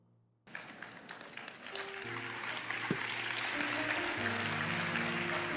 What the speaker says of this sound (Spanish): Todavía no aplaudan.